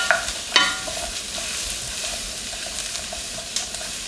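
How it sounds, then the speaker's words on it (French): Broccoli and other vegetables searing in a hot pan as they are stirred, a steady close sizzle with a few sharp clinks and scrapes of the utensil near the start and again toward the end. "Et là on commence tranquillement à mélanger. On fait saisir un petit peu"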